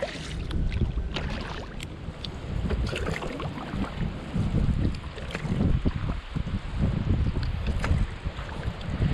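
Kayak paddling through water on Slocum Creek in Havelock, North Carolina, with steady splashes and low rumbling wind buffeting the microphone throughout, no voices.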